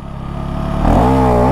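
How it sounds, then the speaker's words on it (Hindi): A 2025 KTM Duke 390 motorcycle engine revs up sharply for a wheelie, a loud, close buzzing note rising steadily and then holding at a high pitch. "नई वाली ड्यूक 2025 से व्हीली मारी जाए लंबी?"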